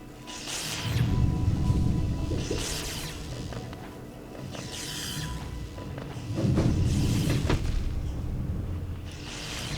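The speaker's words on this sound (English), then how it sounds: "We are going to get exploded by another one of these eggs." Exploding eggs in Fog Canyon in the Hollow Knight video game, two deep rumbling booms spaced several seconds apart over a continuous ambient bed.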